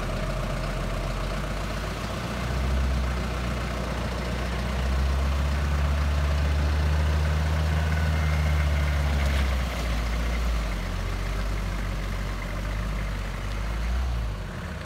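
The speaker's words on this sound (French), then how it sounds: "Heureusement, le tracteur a réussi à nous sortir de là." A tractor engine rumbles steadily at close range, working to pull a vehicle out of mud in the Monferrato countryside, its low drone swelling and easing slightly over about fifteen seconds with no voices.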